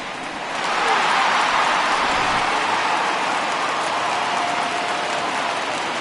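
A home crowd roars in MLB The Show 20 after a home run, a broad sustained cheer that swells quickly and then holds loud, with faint commentary underneath.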